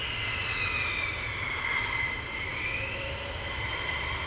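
Fighter jet taxiing at RAF Lakenheath, a steady distant engine whine and roar held at even loudness throughout with a slowly shifting high tone.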